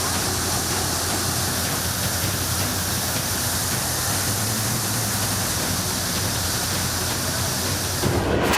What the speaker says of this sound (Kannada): ದುಮ್ಮುಕ್ಕುತ್ತಿದೆ ಅಭ್ಯಾಲ ಜಲಪಾತ.